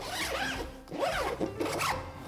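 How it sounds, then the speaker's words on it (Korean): A YKK waterproof zipper on a rolling camera backpack is pulled in a few steady, close zipping strokes with brief pauses between them, and no one talks. "지퍼는 모두 YKK 방수 지퍼라고 하며 상당히 좋은 감촉으로 잘 작동합니다."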